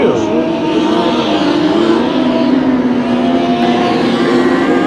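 Race cars roar around a track during a race, a steady dense engine drone with a slowly shifting pitch as cars pass, under a race commentator's talk.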